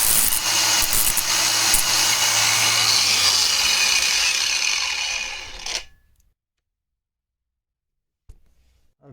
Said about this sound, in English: I'll spin it around and use the angle grinder